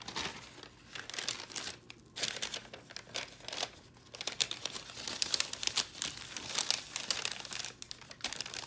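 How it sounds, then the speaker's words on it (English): Transfer paper crinkles and rustles as it is handled over a book bag, a close, quiet run of papery crumpling and crackling in uneven bursts. "I'm going to put the paper on top of her and go ahead and heat her on up."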